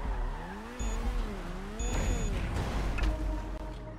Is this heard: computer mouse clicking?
no